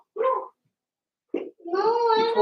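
A puppy gives a short bark, then a brief yelp and a longer drawn-out whimper, close by, with silence between the bursts.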